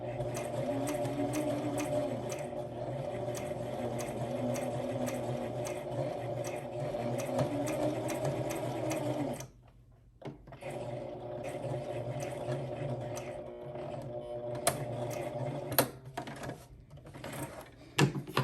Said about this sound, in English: so I just sewed a circle